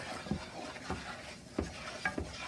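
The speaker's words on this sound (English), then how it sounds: "So I'm really keeping the spoon moving so that I don't burn anything." A spoon stirs a flour roux in a skillet for sausage gravy, giving a few soft scrapes and knocks against the pan at irregular intervals over a low background.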